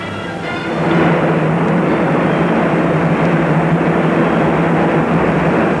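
A P-40 Warhawk fighter plane flies past with a loud, steady droning roar that swells slightly at first and then holds constant, with no voices.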